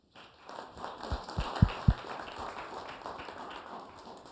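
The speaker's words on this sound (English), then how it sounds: "give me a round of applause" Scattered audience applause at a city community forum in Rialto as the police chief is introduced: a soft, diffuse patter of clapping in a hall, fairly faint, with a few sharper thumps near the start.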